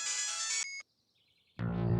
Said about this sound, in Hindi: जैसे भी तुलसी का फोन आता है भाग जाता है।